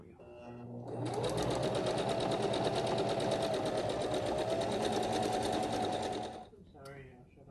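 A sewing machine running a stretch stitch on fabric for a tank top romper, one continuous fast whirring run of about five seconds, close and steady, with a voice before and after.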